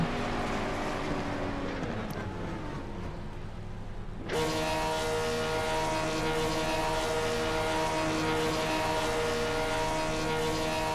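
A race car engine idles with a steady droning hum in the iRacing sim at Daytona, then abruptly steps up to a louder, brighter sustained tone partway through, with no talking.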